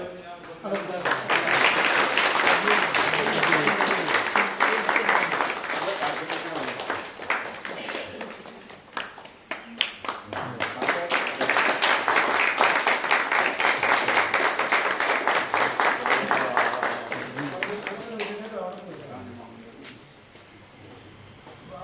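Sustained applause from a crowd at a send-off ceremony for a temple head priest, with two long waves of clapping separated by a short lull, and a voice heard over it.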